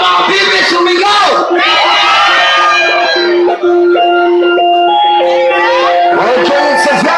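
A crowd at a live rap show shouts and cheers loudly in answer to a call from the stage, a mass of voices and whoops with occasional tonal sounds layered through it.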